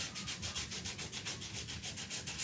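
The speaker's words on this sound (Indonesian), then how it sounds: "Nah, perlu diamplas yang bagian kampas" Steady back-and-forth rasping of sandpaper on car brake pads, rhythmic strokes repeating evenly, close and moderately loud, no voices.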